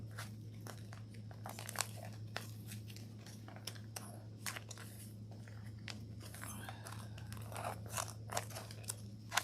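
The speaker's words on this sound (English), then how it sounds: "I'm going to cut my stencil so that it's easier for me to remove." Scissors snip through sticky stencil vinyl for a fabric project, producing faint, irregular crisp cuts and crinkles over a steady low hum, close but quiet.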